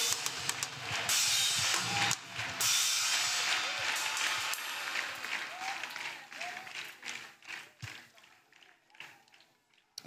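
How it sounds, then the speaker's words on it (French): A church congregation claps as an offering to Jesus at a prayer gathering, dense applause at first that thins and fades toward the end, with a voice heard over it. "Clap offering to Jesus."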